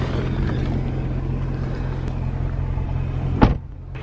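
A BMW M3 E92 idles low and steady after pulling over, its engine droning as a continuous rumble with a brief rush of noise near the end.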